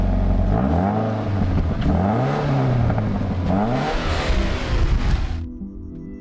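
A Scion FR-S car engine revs up and down in repeated surges, loud and close, then cuts off abruptly near the end.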